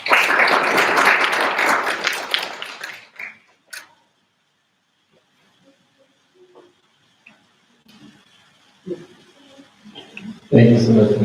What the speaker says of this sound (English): Thank you so much for the round of applause to you